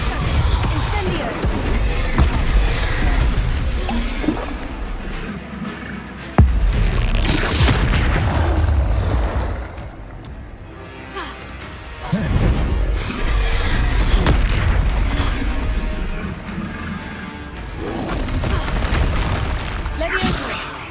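Combat spells like Incendio and other blasts going off in the Hogwarts Legacy game, with repeated loud booming bursts and crackling impacts over a dense, busy background of in-game effects.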